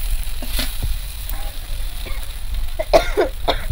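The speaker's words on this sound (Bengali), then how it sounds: "এবার সমস্ত মশলা ভালো করে আলুর সঙ্গে একদম কষিয়ে নেব" Potatoes being sautéed with spices in a pan, with a steady low sizzle, a few scraping stirs and a brief cough-like sound near the end.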